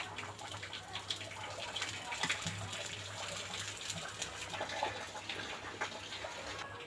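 Hot water runs and gushes steadily into a bottle, a continuous splashing pour with a low hum underneath.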